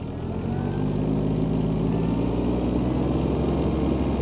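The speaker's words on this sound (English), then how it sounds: "So now we're going to rev it up to the green on the dashboard" An Iseki TH4335 compact tractor's diesel engine revving up steadily to power-take-off speed for a Teagle Park 160 flail mower, a loud continuous close-up drone with no one talking.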